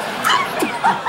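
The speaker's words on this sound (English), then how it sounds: "Do you like dogs? I have a pit bull." A pit bull gives a short burst of close yips and whimpering barks lasting about a second.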